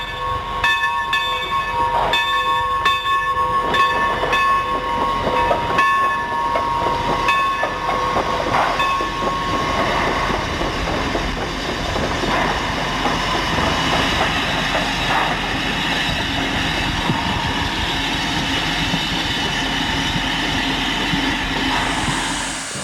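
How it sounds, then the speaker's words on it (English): Sierra Railroad Shay locomotive No. 2 rolls toward the roundhouse in 1979, with a tonal whistle-like ring over the first ten seconds, then a steady rumble, hiss and wheel clatter at close range and no voices. "the Shay heads for the roundhouse"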